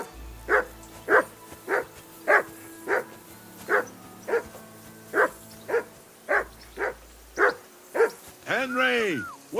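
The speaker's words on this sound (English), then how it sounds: "Whistle at that mutt of yours to stop barking." A dog in the video game Kingdom Come: Deliverance 2 barks repeatedly in a steady, evenly spaced series of loud, close barks, ending in a rising whine or yelp.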